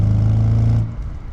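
A 2008 Audi RS4 engine and exhaust drone loudly and steadily while driving, then fade abruptly to a softer rumble in the final half second, with no talking.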